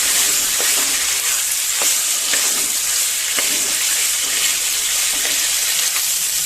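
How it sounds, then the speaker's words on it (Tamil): Unripe figs sauté in a pan with coconut and tamarind, giving a steady, close hiss and sizzle as the water cooks down, with faint stirring ticks and no talk. "ஆட் பண்ணிட்டு நல்லா வதக்கி விட்டுறலாங்க. தண்ணி கொஞ்சம் சுண்டினதும் ஆஃப் பண்ணி ஆற வச்சிடலாம்."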